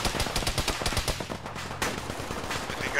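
Rapid automatic gunfire in the military game ArmA, bursts of sharp shots crackling close and loud over distant battle noise, with several weapons firing in overlapping volleys.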